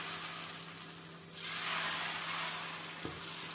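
Wheat dosa batter hits a hot dosa pan, and a soft background hum swells into a broad, steady sizzle that holds at a moderate level. A faint tap sounds near the end.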